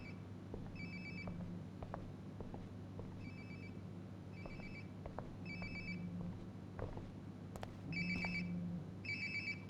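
A phone rings close by in Life is Strange: Before the Storm, repeated electronic ringtone bursts in a steady pattern over a quiet low hum, growing slightly louder toward the end.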